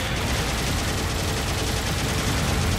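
Mobile suits trade gunfire in Gundam Battle Operation 2, a dense, continuous wash of loud shooting and explosions with no pauses, filling the whole stretch without clear separate shots.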